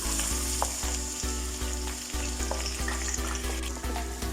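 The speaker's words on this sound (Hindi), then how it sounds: "अब प्याज को हमने 5 से 6 मिनट के लिए भून लेना है।" Onions fry in hot mustard oil with a loud, continuous sizzle close by, and regular stirring scrapes sound under it.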